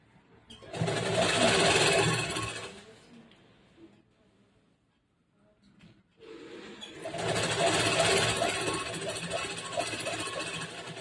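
Sewing machine stitching a folded blouse edge in two whirring runs, close and fairly loud, with a quiet pause of a few seconds between them.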